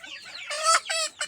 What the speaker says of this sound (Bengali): দেখুন এই একটা মোরগ এটা কিন্তু মোরগ